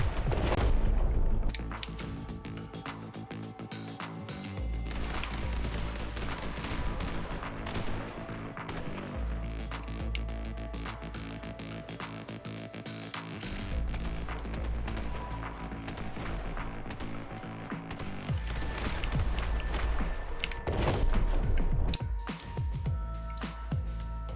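Gunfire in The Hong Kong Massacre, with rapid, dense shots and booming impacts running throughout over a musical backdrop, loud and continuous with a few brief lulls.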